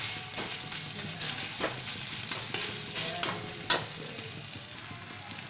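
Ginger paste frying and being stirred in a pan over a medium flame for a masoor dal tarka, a steady close sizzle with soft periodic scraping of the spoon.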